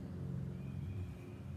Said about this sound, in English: I can hear an airplane going over the top of my house.